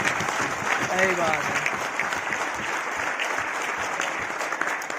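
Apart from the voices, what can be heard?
audience applause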